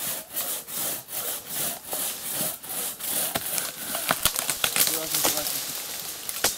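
A hand saw rasps through wood in regular strokes, then the rhythm breaks into quicker, uneven scraping and splintering crackles near the end, close by.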